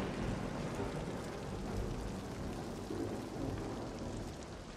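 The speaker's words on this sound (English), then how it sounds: "Rain." Steady, dense rain in a stealth video game, a continuous broadband hiss with low rumbling undertones that stays loud and even throughout, with no voices over it.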